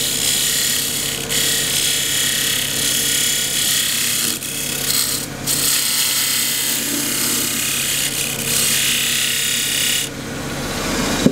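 A wood lathe turns a wooden box with a suction-fit lid, giving a steady continuous whir and scraping rasp of the tool on spinning wood, close and loud throughout with a few brief dips in intensity.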